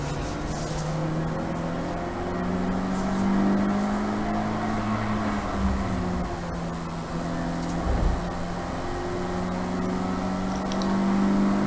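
Race cars lap the Brands Hatch circuit during a trophy race, with a steady, droning engine note that rises and falls in pitch as cars pass, loud and continuous throughout.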